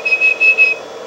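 A person whistles a steady high note in short repeated bursts, close by, over a constant low electrical hum from a power supply and custom Scorpion amp.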